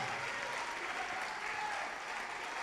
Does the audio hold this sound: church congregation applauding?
yes